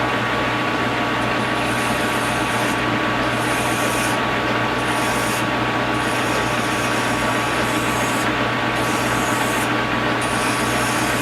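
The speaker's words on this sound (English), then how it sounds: "just a little bit of shaping it by hand with a file comes into play" A hand file rasps steadily at a Marvel Schebler carburetor part, loud and continuous strokes over a steady machine-shop hum, with repeated short pauses between bursts of filing.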